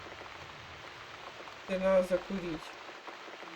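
Steady rain falls in the video game The Cat Lady, a soft continuous patter running throughout the clip while someone speaks briefly in the middle.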